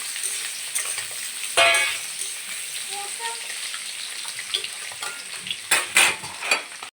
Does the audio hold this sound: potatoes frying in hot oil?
yes